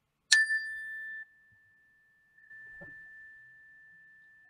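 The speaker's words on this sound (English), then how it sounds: "we're just going to listen to the bell when the bell rings" A single mindfulness bell is struck once, a bright clear ding that rings on with a long, steady fading tone, with a faint soft knock partway through the decay.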